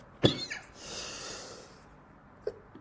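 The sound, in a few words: coughing fit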